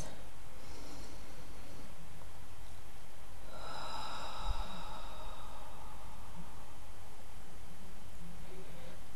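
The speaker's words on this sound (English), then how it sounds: "I want you to take in a nice deep breath" A single slow, deep inhalation through the nose rises softly out of a quiet room, drawn out for about a second, then fades back to near silence.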